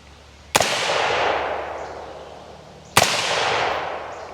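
AR-15 rifle fired at an outdoor range, two sharp loud shots about two and a half seconds apart, each followed by a long fading echo.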